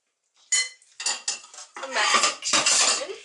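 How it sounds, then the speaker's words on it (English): Spoon scraping and clinking in a bowl while mixing artichoke stuffing of breadcrumbs and ground black pepper, a run of close, brisk metallic strokes that grow longer and denser toward the end, with no talk. "Now, I'm going to mix it all together."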